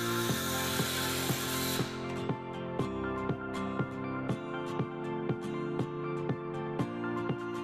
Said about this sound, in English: Cut a 5 centimetre slot along the ridge.